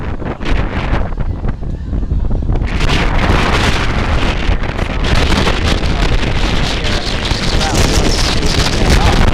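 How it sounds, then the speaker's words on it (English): Strong wind gusts at a baseball stadium buffet the microphone with loud, steady rumbling roar and flutter across the whole stretch, and a broadcaster's voice can be heard faintly underneath. "Wind really starting to pick up."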